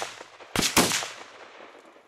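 Two gunshots fired close together during a driven boar hunt, loud sharp reports about a quarter second apart whose echo rolls away and fades over the next second.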